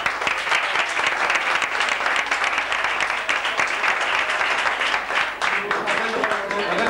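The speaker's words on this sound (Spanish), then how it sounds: "Un aplauso, por favor." Sustained audience applause for the Cate theatre group presenting Chiquilladas, a dense, steady wash of many hands clapping for the full stretch, with some voices beneath.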